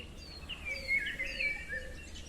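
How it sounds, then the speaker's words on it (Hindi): Small bird chirping outdoors, a few light high tweets scattered over a soft hiss of background noise, no speech. "चिड़िया की आवाज़ सुनाई दे रही है?"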